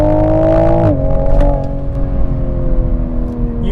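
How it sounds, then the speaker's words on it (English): A 2024 Toyota Supra 3.0 in sport mode, its engine held at a loud steady drone from close inside the cabin, then dipping slightly and settling into a lower sustained hum. "you notice that the engine gets louder in sport mode"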